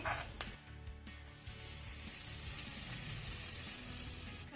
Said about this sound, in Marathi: त्यानंतर ही चुरचुरीत फोडणी आपल्याला चटणीवर घालायची आहे